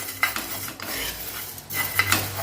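A utensil scrapes and clinks against a pan in a few quick strokes, roasting whole spices for red chilli pickle, with a low steady hum underneath and no talking.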